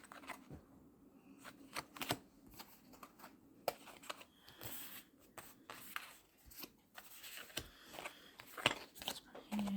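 Tarot cards are picked up and laid down one after another, giving soft scattered rustles, slides and light taps at close range with quiet pauses between them.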